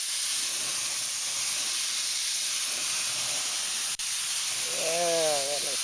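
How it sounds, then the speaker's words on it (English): Continuous loud hiss of a spray gun laying down acrylic enamel paint on motorcycle covers for a two-stage clearcoat job over gold pearl, steady and close throughout, with a brief break near the end and a faint tonal sound over it. "This paint sprays much better that I don't have so much thinner in it."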